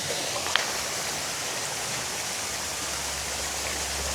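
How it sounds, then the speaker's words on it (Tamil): Water falls steadily in a garden café with waterfalls and fish. It makes a continuous, even hiss and rush like a stream, with one small click near the start and no voices. "ஓ மை காட், அப்படியே வாட்டர் ஃபால்ஸ் பாருங்கள்."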